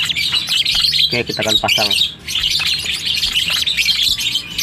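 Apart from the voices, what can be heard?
young lovebirds chirping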